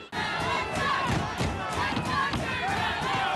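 Rugby crowd of about 2,000 fans packed into the Whitestone Contracting Stadium, cheering and shouting continuously, a dense roar of voices with rising yells throughout.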